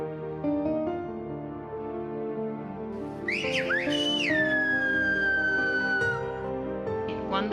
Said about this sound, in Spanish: silbarle algunas palabras para que ellos ya vayan captando lo que es el sonido del silbo